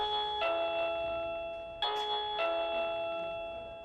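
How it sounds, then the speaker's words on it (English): Doorbell chimes ring at the Southern Comfort Inn motel, three clear bell-like tones spaced over a few seconds, each slowly fading, moderately quiet, with no talk. "The doorbell at the Southern Comfort Inn is the sound of someone wanting to spend the night, a week, or even years."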